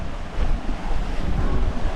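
Wind rushes and waves wash against the hull of the sailing yacht Crackajack in a 15-knot breeze while heeled over near Moreton Bay, a steady close roar of buffeting gusts and splashing water.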